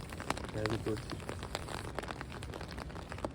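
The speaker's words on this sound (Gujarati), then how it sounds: "વરસાદ ચાલુ થઈ ગયો છે તમે સાંભળી શકો છો વરસાદ આવે છે" Rain patters steadily on a tent, a dense close-up drumming of drops, with a voice briefly speaking under it.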